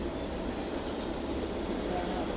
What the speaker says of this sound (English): Oh, I love when there's a train.